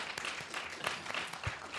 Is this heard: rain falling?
no